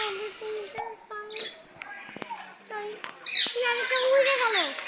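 Birds in a safari park aviary call over one another, with close, overlapping whistles, squawks and rising-and-falling tonal cries running on for several seconds.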